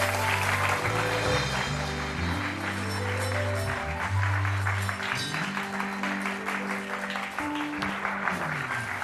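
A TV talk-show studio audience claps to welcome a guest, a life coach, onto the set. The steady applause runs throughout, mixed under loud, sustained upbeat music.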